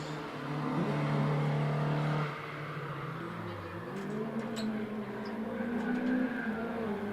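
Peugeot race car climbing the Prescott hillclimb course through the S bends, engine droning loud and close then easing off and building again as it passes, with faint voices in the background.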